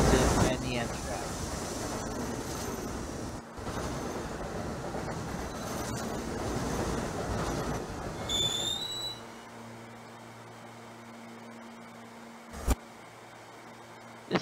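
A New York City subway A train in Trainz Simulator 2012 rumbles along with steady rolling noise and rattling, then slows and quiets to a low hum with a sharp clunk near the end.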